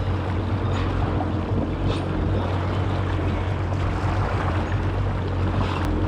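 A Kawasaki SXR 1500 stand-up jet ski runs across open water, giving a loud, continuous engine drone mixed with wind and splashing, with no talking.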